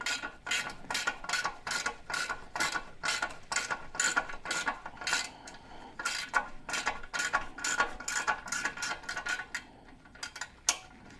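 Ratchet wrench working on motorcycle bolts of an FXR, a long run of steady, rapid metallic clicks in quick strokes, close and fairly quiet, with no talking.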